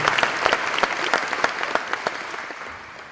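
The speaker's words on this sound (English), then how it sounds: "So let's once again give a round of applause to all tonight's participating families and individual family members." A banquet audience at a community museum dinner gives a round of applause: steady, dense clapping from many hands, fairly close and full, gradually thinning toward the end with no talking over it.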